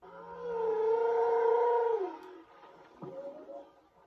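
A Google Nest Audio smart speaker plays a recorded whale call, one long sustained moaning tone that drops off and is followed by a shorter, fainter groan.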